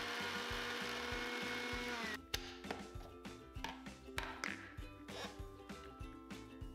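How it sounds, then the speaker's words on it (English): Garlic being coarsely ground in an electric spice grinder: a steady motor whir for about two seconds, then the motor cuts and loose pieces rattle and knock inside the jar in irregular close taps, with no talking. "In the same grinder, we're going to add in a garlic and coarsely grind."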